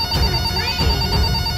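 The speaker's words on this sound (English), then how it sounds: "A banana phone?" A toy banana phone rings with a bright electronic ringtone in short chirping bursts, loud and close, over a brief span.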